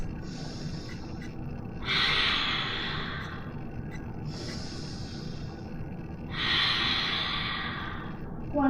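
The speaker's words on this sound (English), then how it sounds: "Three breaths." Slow, deep yoga breathing during a flow sequence: two long, audible exhales hiss out close to the ear, with softer inhales between them and a gentle steady background.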